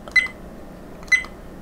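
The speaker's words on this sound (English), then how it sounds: "It does have an annoying beep, so I can actually change that" A Z-Edge S3 dash cam gives two short, bright electronic menu beeps about a second apart, close and clear over faint background hiss.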